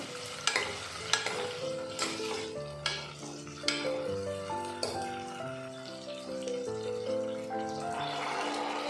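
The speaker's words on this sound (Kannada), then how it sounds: "ನಾನಿಲ್ಲಿ ಒಂದು ಟೊಮೆಟೊನ ಕಟ್ ಮಾಡಿ ಹಾಕ್ಕೊತಾ ಇದ್ದೀನಿ ಈಗ ಇದು ಚೆನ್ನಾಗಿ ಫ್ರೈ ಆಗಬೇಕು" Chopped tomato fries in a hot pan, sizzling steadily up close while being stirred with repeated scraping strokes, over a backdrop of melodic tones.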